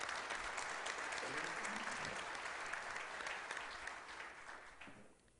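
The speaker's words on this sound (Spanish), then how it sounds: "Por favor, un aplauso" A large conference audience applauds steadily, a dense wash of clapping that holds for several seconds before tapering off.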